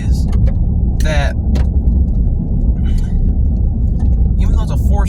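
A 2021 Chevy Silverado 1500 with a 2.7L inline-4 engine drives along, its steady low road rumble and engine drone filling the cabin while people talk over it.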